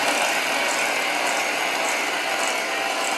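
Butter and sugar being blended into creamy batter for chocolate chip peanut butter blondies, giving a steady, continuous mechanical whirring and grinding that holds at an even loudness throughout, with no talking.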